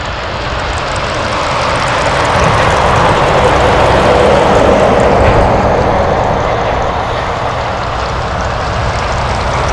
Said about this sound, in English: Alaska 332 flying to SeaTac, a 737-800.